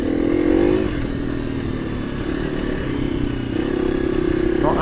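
A KTM EXC-F 350 dirt bike on a wooded trail ride in the North Wessex Downs, its engine droning steadily close up with small shifts in pitch as twigs and branches clatter underneath; a rider talks over it.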